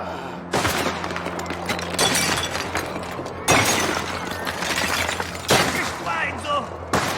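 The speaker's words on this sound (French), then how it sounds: "Je tire, tu bouges!" Rapid gunfire bursts from a Mafia video game crash out in loud, repeated volleys with sharp impacts and shattering, while voices shout over the fighting.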